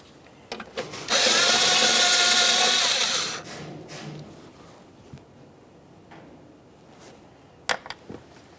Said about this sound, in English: We'll remove our 10mm mounting bolt.